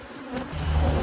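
Angry honey bees buzz loudly and continuously around an overturned hive during a honey harvest, a dense close swarm drone that swells in the second half.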